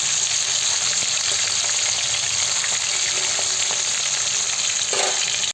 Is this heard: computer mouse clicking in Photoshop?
no